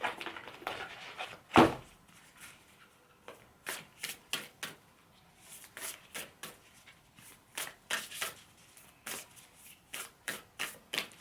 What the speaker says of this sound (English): Let's pull a card for Joseph.